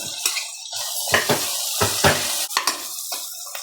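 Peas and capsicum are stir-fried in oil with greens for vegetable fried rice. Bursts of sizzling come with repeated metal spatula scrapes and clanks against the pan, close up and without talk.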